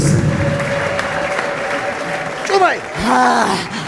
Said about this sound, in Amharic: ከሞን ለእግዚአብሔር ክብር በደንብ አጨብጭቡለት